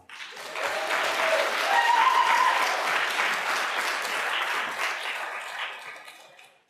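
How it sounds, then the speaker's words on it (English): Conference audience applause for a panel on community involvement in economic development, swelling quickly into a full even round of clapping, holding steady, then fading out at the end, with no talk over it. "a round of applause."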